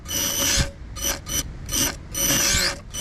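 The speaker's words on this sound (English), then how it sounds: "It doesn't run well, but yeah, motor is toasted." Damaged electric motor of an RC jet dragster running poorly, sputtering in about five short whirring bursts separated by brief gaps. Loud and close, with no talking.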